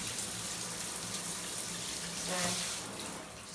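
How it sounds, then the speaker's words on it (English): Water gushes steadily from a turned-on tap fitted with a filtration system in a bathroom, a continuous broadband rush at moderate level that swells briefly near the end. "So we turn this tap on."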